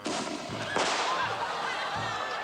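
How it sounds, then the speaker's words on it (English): Fireworks going off, a series of sharp cracks and pops with a crackling burst in the middle, fairly loud and near. "Fireworks can be fun, as long as they're used safely."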